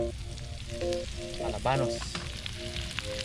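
Garlic and meat sauté in a hot pan with a steady, close sizzle and a brief stir, while a person speaks over the cooking.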